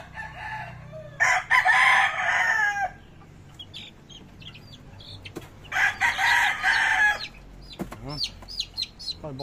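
Farmyard chickens cluck and a rooster crows nearby, two loud crowing calls separated by quieter clucking, with faint human voices in the background.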